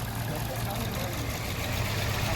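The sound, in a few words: car engine idling during power balance test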